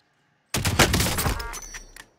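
A sudden, loud burst of video game gunfire in a shootout, one dense volley of close shots that rings out and decays over about a second and a half.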